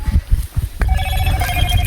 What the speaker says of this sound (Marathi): वाजला मोटरोला वाजला.